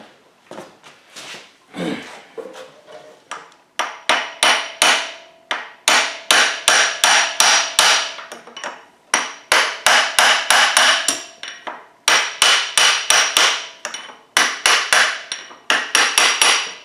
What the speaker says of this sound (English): Silver hammer and punch.